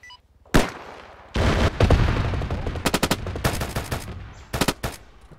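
Automatic and single gunfire from the military shooter ArmA, sharp loud bursts ringing out in rapid clusters with a few heavier booming reports, no talking over it.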